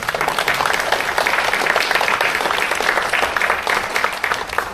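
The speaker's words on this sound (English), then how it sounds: "thanks to Mike and Marie, so I'd like to give them another round of applause." An audience gives a round of applause at a CERT volunteer appreciation event, sustained dense clapping from many people, steady and fairly loud throughout.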